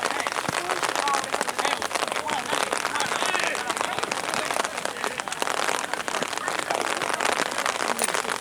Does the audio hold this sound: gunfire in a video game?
no